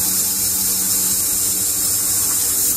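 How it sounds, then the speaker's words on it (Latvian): A power screwdriver gun drives a screw in a car service workshop, making a continuous high-pitched whine with a buzzing motor hum beneath it, close and steady for the whole stretch, with no talk. "es ar pistoli viņu pieskrūvēju"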